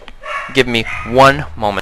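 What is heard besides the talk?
dog barking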